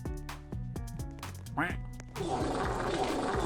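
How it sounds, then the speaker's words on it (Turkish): Repeated duck quacks from the Roblox Strongman Simulator video game ring out over bright, rhythmic game music, several short honks clustered near the start before a dense wash of sound takes over. "İki tane vak vak yapayım"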